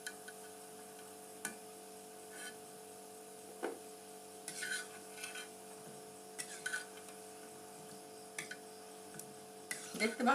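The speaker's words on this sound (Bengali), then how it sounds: "এগুলি ভাজা হয়ে গেছে, দেখেন কিরকম কটকট করে আওয়াজ করে" Crisp deep-fried kurkuri biscuits in long strips clatter and tap as they are lifted out of the oil, a quiet scatter of sharp, irregular clicks over a faint background hum.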